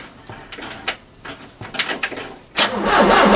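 A Ford Cortina engine cranks sluggishly on a weak battery, the starter turning slowly in uneven, labored pulses before a louder rush of noise takes over at the end.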